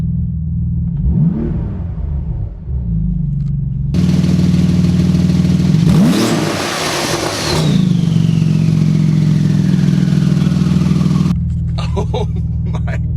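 A 2019 Porsche 911 GT2 RS engine idling close by, then revving hard in two deep, roaring bursts, the second rising sharply before falling back to a rumbling idle.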